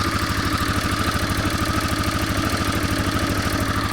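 An old, rough-running $500 4x4 ATV engine idles close by with a fast, steady chugging pulse that holds an even level for the whole stretch, with no talking.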